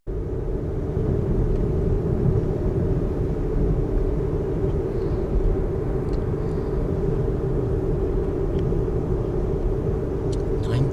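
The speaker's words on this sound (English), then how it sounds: "This is e-Niro driving like a demon." A Kia e-Niro electric car driving briskly on a sunny winter day gives a loud, continuous low road and wind rumble from inside the cabin, steady for the whole stretch with no talk.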